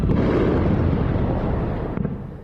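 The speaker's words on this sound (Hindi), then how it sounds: "हमले के साथ ही तेज धमाका हुआ" A loud, deep explosion rumbling and slowly fading over a couple of seconds.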